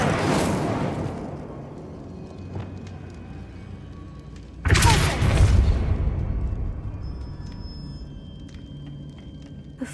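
A spell burst from the Incendio fire charm in Hogwarts Legacy, a sudden loud whooshing blast about halfway through that fades slowly, following an earlier, fainter burst at the start.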